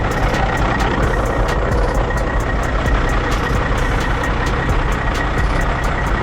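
A Kenworth truck with a Cat C15 Acert engine idles nearby in a steady, loud diesel rumble, with faint repeated high ticks running over the drone throughout.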